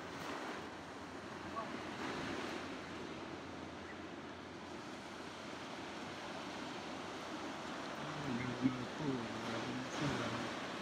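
Ocean surf rolls in at Bronte Beach in Sydney as a constant, fairly distant wash with wind buffeting the microphone, and voices briefly join near the end.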